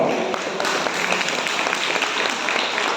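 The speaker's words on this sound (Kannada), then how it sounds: "ಈ ಒಂದು ಪುಟ್ಟ ಬಾಲ ಪ್ರತಿಭೆಗೆ ತಮ್ಮೆಲ್ಲರ ಪ್ರೀತಿಪೂರ್ವಕವಾದಂತಹ ಚಪ್ಪಾಳೆ" An audience at a national Basava Shri award ceremony claps warmly for a young girl prodigy, a thick, even wash of applause holding steady at moderate loudness from start to finish.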